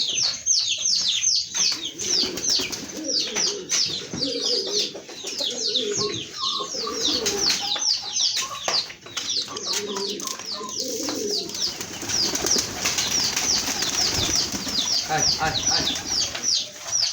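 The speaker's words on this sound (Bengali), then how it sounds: "এই দেখেন কবুতরটা এখন উড়ো দিতে পারে অবশ্য" Pigeons coo softly amid chirping birds, with occasional wing flutters and a voice talking faintly in the background.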